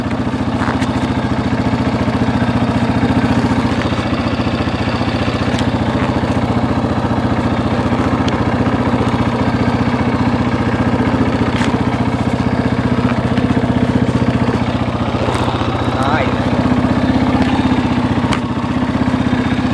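A 2003 Honda CRF230F dirt bike idles steadily after a cold start, a close, constant low engine drone with light mechanical clatter running unbroken throughout, no voices.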